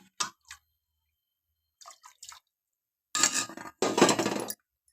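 Lentils are added to a pot for Mangalore-style cucumber sambar: a few faint clinks, then two short louder bursts of pouring and rattling near the end, with silence between.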